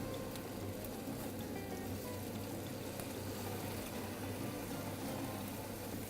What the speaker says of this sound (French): Et on va poêler nos saumons côté arête.